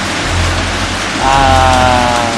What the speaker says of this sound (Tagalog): Parang wala pang balak humito yung ulan eh.